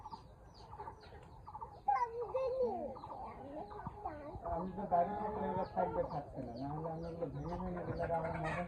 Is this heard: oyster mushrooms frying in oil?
no